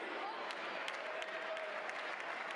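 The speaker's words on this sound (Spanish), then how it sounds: "Venga, chicos, aplaudimos a Natalia Gómez" Steady applause from an audience at a trail race awards ceremony, even and continuous, moderately distant with a faint crowd murmur and no clear speech.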